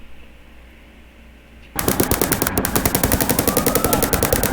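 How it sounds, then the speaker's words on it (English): Rapid automatic gunfire from the Las Vegas shooting rattles out in a steady, relentless stream of evenly spaced bursts, starting abruptly after a quiet background and sounding clear though somewhat distant. "Gunfire down there."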